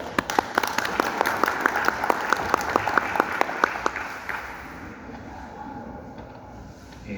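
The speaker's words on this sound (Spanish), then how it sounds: "Sigamos por favor con un aplauso al licenciado Augusto Cardona." An audience applauding for a lecturer at an evening talk in Arequipa, distinct claps ringing out in a steady rhythm for about four seconds, then fading into a quiet room.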